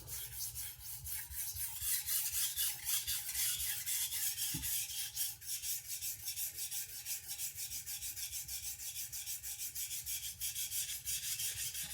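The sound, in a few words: sharpening a knife edge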